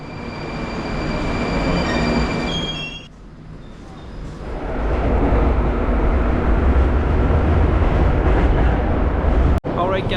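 Moscow metro train pulling into a station: a loud rumbling roar with high whine tones that dips briefly, then swells again as carriages roll in close by, ending with a sharp click.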